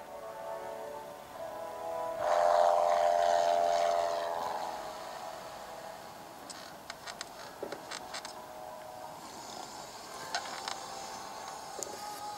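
A chartered propeller airplane flies over Isla Sorna in a LEGO Jurassic Park game, its engine drone swelling loudly then easing to a steady hum, with scattered small clicks and chimes toward the end.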